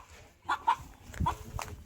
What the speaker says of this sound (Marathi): तर इथं काही कोंबड्या आहेत आणि दुसरीकडे पण काही कोंबड्या आहेत.